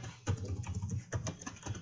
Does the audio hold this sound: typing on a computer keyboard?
yes